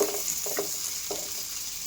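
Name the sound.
small onions frying in a pan for chutney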